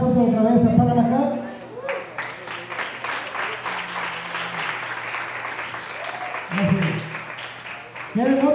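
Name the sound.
audience applause for Panamá Cup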